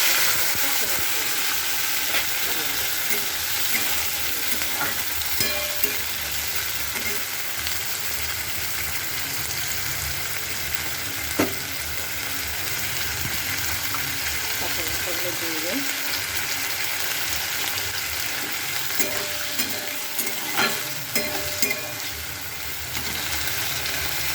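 Tomatoes, green peas and green chillies fry in hot oil in a wok for a potato chorchori, giving a continuous bright sizzle and hiss with occasional stirring scrapes over about twenty-four seconds.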